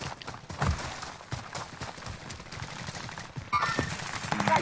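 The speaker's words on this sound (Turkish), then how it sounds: "Çatışma var yukarıda." Gunfire crackles through a firefight in Call of Duty Warzone, with distant irregular bursts and single shots at a fairly low level, no talk over it.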